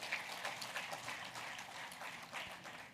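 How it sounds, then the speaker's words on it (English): A conference audience in Rubavu applauds: distant, fairly faint clapping forms an even, continuous patter for a few seconds. "A round of applause to our appreciation"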